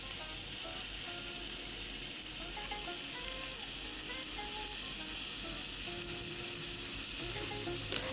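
Onions sauté in a pan with a soft, even sizzle at low volume, with a faint clink near the end.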